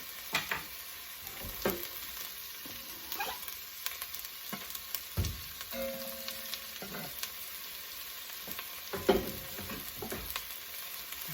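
Garlic softening in a pan for soon dubu jjigae, a steady sizzle and frying hiss with occasional stirring scrapes and clinks, close and alone without voices.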